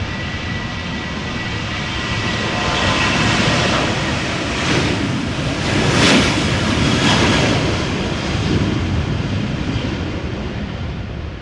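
Jet airliners, heavies and narrow bodies, departing at Amsterdam Schiphol Airport in a crosswind, make a loud continuous roar that swells and fades over several seconds, with broadband rushing noise and no voices.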